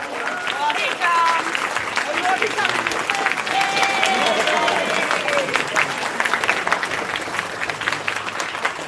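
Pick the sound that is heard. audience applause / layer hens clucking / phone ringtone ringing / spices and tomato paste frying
audience applause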